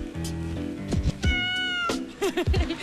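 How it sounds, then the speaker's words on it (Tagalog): A cat meows several times in succession, loud and close, with drawn-out, wavering cries and a short rising call near the end. "Ingay po yung pusa sa akin eh."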